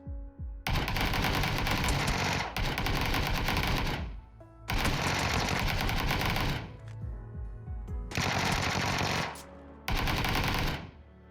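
Sustained automatic gunfire in a PUBG gunfight comes in long, dense bursts with short gaps between them, loud and close throughout, with no voices.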